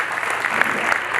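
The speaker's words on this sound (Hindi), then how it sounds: "एक बार जोरदार ताली इन कला गुरुओं के लिए।" Audience applause after a stage drama, a steady wash of clapping from a crowd that holds evenly through the short moment without speech.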